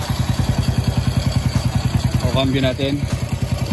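Honda Wave 100 motorcycle engine fitted with a clutch conversion kit runs after starting, a steady rapid chugging pulse throughout, close and loud, with someone talking briefly over it near the end.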